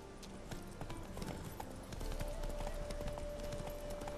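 Horse hooves clip-clop at a steady trot in the Witcher 3 video game, fairly faint against game ambience, with a sustained tone entering midway.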